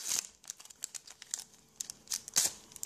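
A Pokémon XY booster pack wrapper being torn open, crisp crinkling and tearing foil in quick irregular bursts, close and fairly quiet, with no voices.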